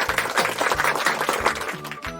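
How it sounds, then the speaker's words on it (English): A class applauding together in a classroom, a dense spread of clapping that stays steady for a couple of seconds, over low background tones. "now let's give ourselves a big clap"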